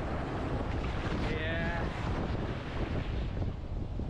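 Sea waves wash and roar continuously close by on a beach at Havelock Island, heavy wind noise over them, with a brief faint voice partway through.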